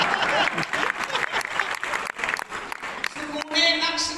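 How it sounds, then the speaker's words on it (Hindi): Audience applause at a kavi sammelan poetry recital in Lucknow, dense clapping filling the hall for about four seconds, with a voice speaking over it near the end. "भाई साहब ताली बजा रहे हैं, बहुत अच्छा लग रहा है"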